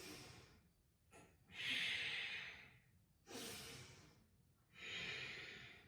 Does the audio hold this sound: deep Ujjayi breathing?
yes